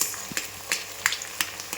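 Chicken noodles cooking in a pan, with soft stirring scrapes and light clinks recurring every few tenths of a second over a faint, steady background, fairly quiet and close.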